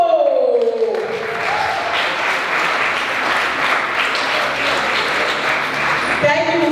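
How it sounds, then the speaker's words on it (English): Audience applause at a summit finals event in a hotel, a dense sustained burst of clapping from a crowd, close and loud, starting as a voice fades and ending abruptly. "a round of applause for Rain from Yadiko."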